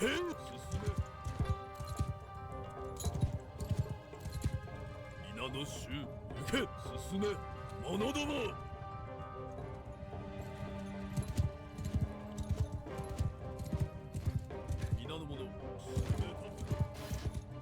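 Cavalry horses gallop across a battlefield in the samurai strategy game Shokuho, with a dense, continuous clatter of hooves, occasional whinnies and impacts, while someone talks over the action.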